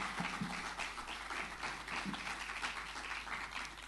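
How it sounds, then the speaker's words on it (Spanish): An audience at a lecture in a hall bursts into steady applause, a dense wash of many hands clapping at moderate volume throughout, with no speech over it. "Un aplauso para él, por favor."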